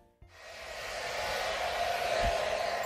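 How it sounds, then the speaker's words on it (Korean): A hair dryer switches on and blows strong hot air in a steady, loud, continuous whoosh that holds to the end. "드라이기에 강한 바람으로 머리카락을 말리는 휴학생."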